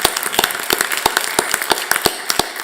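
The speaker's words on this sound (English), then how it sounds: "Seriously, let's give Eric a round of applause." Sparse audience clapping at a school board meeting, a scattering of sharp individual claps with no talk over them.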